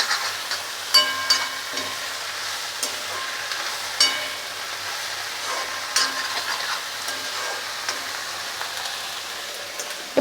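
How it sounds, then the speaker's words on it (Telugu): Chopped gongura leaves being stirred into a hot pan with tomato pieces, a spoon scraping and clinking against the metal at irregular intervals over a soft steady sizzle, close up with no talk. "వేసేసి ఒకసారి బాగా కలుపుకుంటున్నాను"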